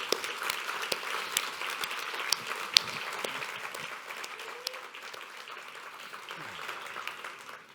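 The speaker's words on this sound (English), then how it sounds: "let's give them a round of applause" Audience applause at an award presentation, a sustained dense patter of many hands clapping that gradually thins out toward the end.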